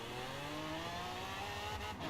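A Shelby King Cobra engine screams at steady high revs in Forza Horizon 4, a loud, sustained over-revving drone with dense harmonics that holds throughout, alone without talk.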